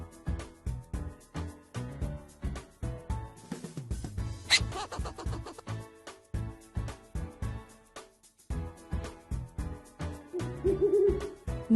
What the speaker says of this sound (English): Next, we have Ollie the owl.